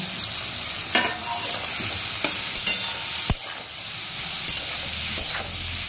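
Spices and chopped tomato with chili powder fry and get stirred in a pan for a mixed vegetable dish with chhana, giving a steady close sizzle broken by scraping spoon strokes.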